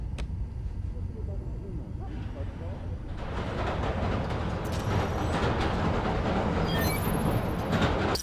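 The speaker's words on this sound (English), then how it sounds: "Yeah, subway comes up over there." A subway train in the Spider-Man: Miles Morales video game rumbles past in a steady, loud rush that builds partway through, with metallic squeals high in the mix near the end.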